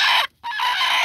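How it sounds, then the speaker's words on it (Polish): Broody hen on eggs, a loud, close, agitated cluck-like call in two bursts separated by a short gap. "Jest kwoczka."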